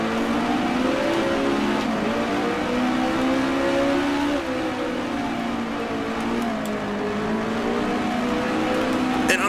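Racing car engine in the Grand Prix Legends video game, a 1966 Tasman Series New Zealand Grand Prix car, droning steadily and loudly throughout with rising and falling pitch as it shifts and accelerates.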